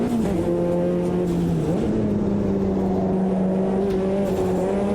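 A race car engine drones steadily in the Automobilista 2 racing game, the pitch sliding and wavering as another car closes in to pass, loud and continuous with no talk.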